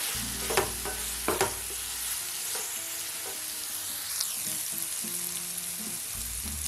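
Sliced big onions sauté with ginger garlic paste in a pan, a steady close sizzle with occasional spoon scrapes and knocks, under a low humming tone, with no talking.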